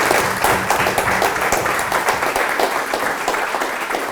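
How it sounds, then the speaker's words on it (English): An audience at a talk with Indian American medical device entrepreneurs applauds the panel, giving a full, even round of clapping that runs steadily for a few seconds without speech. "would you join me in giving a round of applause for these wonderful people?"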